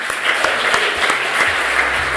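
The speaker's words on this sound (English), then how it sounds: "we say thank you to you and give you a big applause" Applause from a conference audience at Campus NPLD-Coppieters 2024, dense clapping throughout a hall, steady and moderately loud over a low hum.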